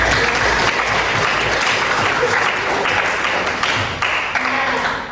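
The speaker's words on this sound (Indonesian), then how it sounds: "boleh tepuk tangan teman-teman" A classroom audience gives sustained, dense applause, a steady wash of many hands clapping at once that holds at full strength throughout.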